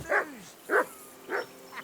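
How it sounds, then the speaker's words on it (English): A dog named Mutt barks in the medieval game Kingdom Come: Deliverance II, four short barks spaced about half a second apart, fairly close and alone. "Call that dog, Henry. Who the hell can listen to that?"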